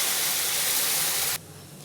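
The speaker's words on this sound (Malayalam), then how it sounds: "ഇതിലേക്ക് നമ്മൾ വേവിച്ച് വെച്ചിരിക്കുന്ന സാമ്പാർ ഒഴിച്ചു കൊടുക്കാം." Cooked sambar poured into a hot onion and curry-leaf tempering, a loud close burst of sizzling hiss that cuts off sharply just before the end.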